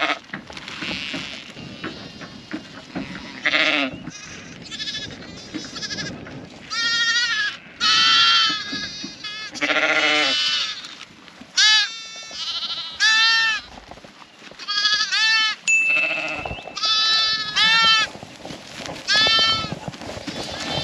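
Ewes and lambs bleat repeatedly in a lambing shed, with overlapping near and farther calls of varied pitch throughout, over a steady background rustle and occasional soft human voice.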